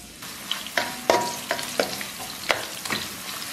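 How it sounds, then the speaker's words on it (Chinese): Scallion and garlic fry in oil in a wok, a steady close sizzle broken by several sharp clanks and scrapes of a spatula stirring the aromatics, with no voices. "咱给锅里边稍微来点油， 葱蒜给它爆香"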